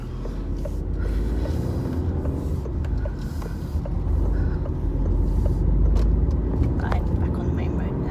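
Lorries and other traffic rumble past on a main road, a continuous low engine roar that swells and ebbs as vehicles go by, heard from inside a car, with a person talking over it.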